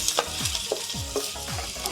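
Onions sautéing in a pan for Filipino-style spaghetti, a steady sizzle broken by four rhythmic scraping stirs, close and moderately loud, with no talking.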